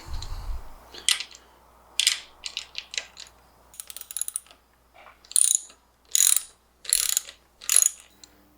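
A ratchet wrench clicks in short bursts while loosening a 14 mm bolt on a reverse osmosis water filter system, the ratcheting close and crisp, separated by brief pauses.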